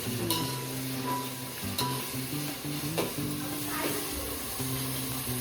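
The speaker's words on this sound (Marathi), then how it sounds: "कांद्याला पूर्णतः परतून घ्यायचं आहे एक जीव करायचं आहे लाल होईपर्यंत" Onions frying in a little oil in a pan for a village-style Konkan chicken and mutton curry, a steady close sizzle with occasional stirring scrapes, while a voice talks over it in places.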